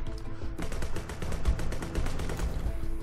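Rapid automatic gunfire from the shooter game Sword With Sauce, a dense, steady burst of shots lasting about three seconds over a constant game soundtrack, with no talking.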